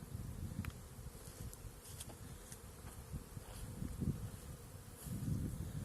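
Honey bees swarm and buzz steadily around hives at an apiary beside a sunflower field, a dense continuous hum with individual insects passing close now and then.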